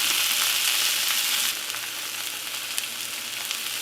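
Chicken pieces brown undisturbed in a hot pan, giving an even, continuous sizzle that drops a little partway through and carries on steadily, with no one speaking.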